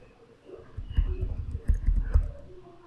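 Typing on a computer keyboard while entering install commands on Ubuntu: a quick cluster of soft key clicks and taps, close and fairly quiet, with no talk.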